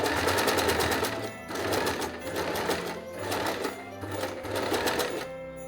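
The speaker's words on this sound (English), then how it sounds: "I layered fabric scraps in a freeform way and stitched over them." A sewing machine runs steadily, stitching freeform over layered fabric scraps for Christmas decor, its fast needle rhythm loud and close with brief pauses between bursts.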